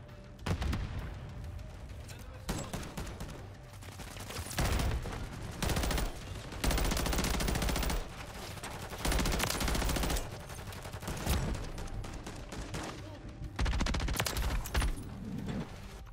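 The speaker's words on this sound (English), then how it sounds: "That guy is doing everything he can to shoot up my helo" Bursts of automatic gunfire aimed at a helicopter in the Modern Warfare video game crack out in loud, irregular volleys with short gaps between them, alongside a few heavier booms.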